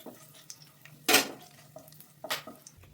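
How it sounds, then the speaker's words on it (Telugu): Whole spices such as cumin and shahjeera frying in oil in a pan for dum aloo curry, with a few sharp clinks of a utensil against the pan over a faint crackle, close up and with no talk. "ఈ మసాలా దినుసులన్నీ వేసుకోవాలి వేసి వేయించుకోవాలి"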